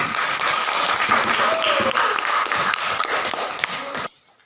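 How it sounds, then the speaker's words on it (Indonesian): A classroom audience claps steadily for several seconds, a dense close burst of applause that cuts off abruptly near the end, leaving quiet room tone. "Kasih aplaus buat."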